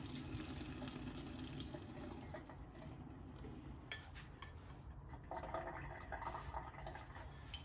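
Water runs and trickles steadily as Samyang ramen noodles are drained through a strainer, a faint close pour with a slight rise partway through.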